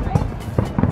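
Muffled bursts of Fourth of July fireworks pop at irregular intervals at a car show, a few low thumps over a steady background murmur of people talking.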